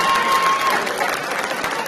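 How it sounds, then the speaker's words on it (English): Short burst of audience applause at a high school National Signing Day event, many hands clapping steadily with light crowd murmur underneath, close and moderately loud. "One more round of applause, and we'll roll it on."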